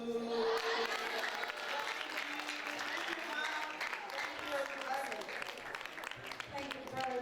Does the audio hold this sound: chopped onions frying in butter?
no